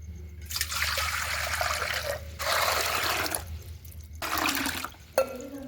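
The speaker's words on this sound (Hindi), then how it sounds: "अभी मैं लूँगी इस भगोने में 3 लोटा पानी" Water pours in long splashing bursts from a lota into a metal cooking pot ready for boiling pasta, with short pauses between pours and a light clank near the end.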